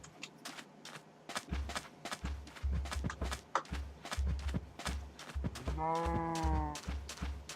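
Cattle in a ranching video game, with repeated hoof clops and thuds in an uneven walking rhythm, plus a tonal moo-like call near the end, fairly close and without talk.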